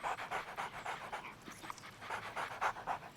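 Two dogs pant rapidly and rhythmically close by, quick breathy in-out puffs overlapping in a steady fast pattern, with no voices over them.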